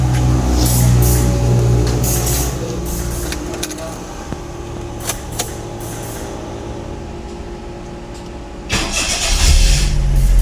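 A Perodua Kenari car engine, under repair for a no-start fault, is cranked: loud, close rumbling bursts of starter and engine, with a final surge of cranking near the end.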